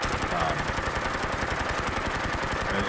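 Rapid automatic fire from a PP-19 Bizon submachine gun in a Fallout 4 mod, a dense, continuous rattle of shots with steady rhythm, loud and close throughout.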